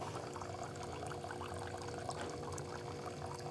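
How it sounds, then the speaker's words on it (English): A Breville espresso machine pouring hot water into a cup for an Americano, a steady close stream of liquid with a faint mechanical hum beneath, continuous and unbroken. "So Americano on this one, the hot water comes first"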